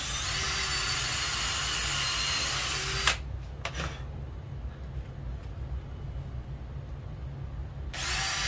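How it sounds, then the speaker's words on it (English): A power drill driving screws whirs steadily for a few seconds, cuts out with clicks and handling noise, then starts whirring again near the end. "Hopefully this drill bit isn't too big to accept these blue screws."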